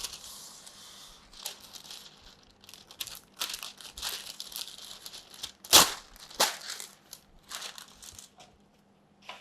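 Parchment paper crinkles and crumples in short bursts while being laid into a baking tray, with a few sharper crackles midway and quiet pauses between handlings.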